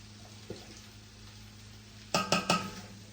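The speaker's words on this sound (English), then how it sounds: "Stir that all in." Diced tomatoes stirred into a pot of cooking albondigas, with a low hum and one soft knock before three quick, close metallic scrapes of a utensil against the pot.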